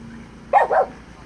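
An unneutered dog living outdoors gives two quick, close barks in a row, with a faint voice in the background.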